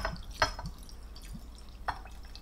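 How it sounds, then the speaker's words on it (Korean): Liquid poured into a bottle holding glycerin, to make a homemade adzuki bean ampoule skin toner, giving a few sparse, soft drips and splashes, quiet and close. "마지막 청아를 여기다 부어주세요"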